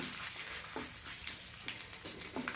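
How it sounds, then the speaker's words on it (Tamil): Mustard seeds and urad dal crackle and sizzle in hot oil, with a steady frying hiss broken by several sharp pops, close and alone. "கடுகு வெடிக்குது, உளுத்தம்பருப்பு செவுக்குது"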